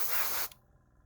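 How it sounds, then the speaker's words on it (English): An airbrush sprays paint in a steady, close hiss that lasts about half a second and then cuts off abruptly, leaving faint room noise. "I'm trying to learn the airbrushing."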